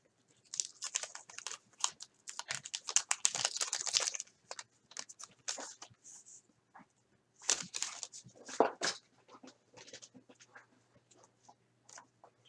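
Crinkly crackling and tearing of a 1980 O-Pee-Chee hockey card wax pack being opened by hand, close and intermittent in bursts with short pauses, without talk.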